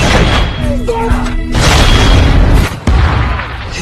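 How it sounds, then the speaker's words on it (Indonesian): Heavy artillery explosions in a Vietnam War battle with Australian troops, a loud booming blast that rumbles on and on, with a second deep impact near the end. "Meski mereka dihujani gempuran artileri"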